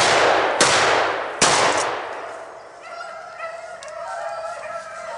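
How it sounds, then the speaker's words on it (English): Two sharp shotgun blasts ring out close by during a South Carolina rabbit hunt, about a second apart, each trailing off into the open air, followed by faint dogs and background sounds. "Shoot him again, Chunky, shoot him."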